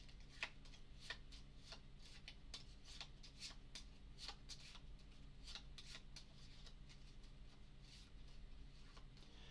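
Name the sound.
shuffling Arkham Horror playing cards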